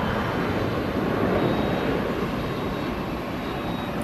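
A jet aircraft at Manchester Airport on the runway side gives a steady, loud roar with no breaks, a continuous broadband engine rumble from fairly near, and no voices.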